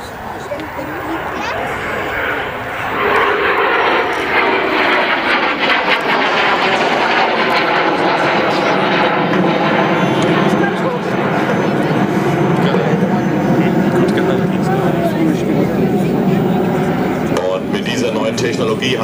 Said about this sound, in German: Die Me 262 ist das erste Serienflugzeug, das nicht mehr mit Propeller,